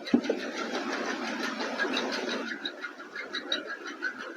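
An electric hair clipper hums continuously through a men's haircut, a steady close buzzing motor whine that shifts slightly as it moves through the hair.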